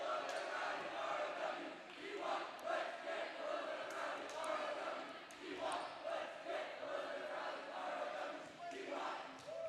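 Home crowd at a Flyers high school volleyball match against Crosby-Ironton cheering and shouting in a gym, a sustained roar that swells and dips in waves, moderately distant.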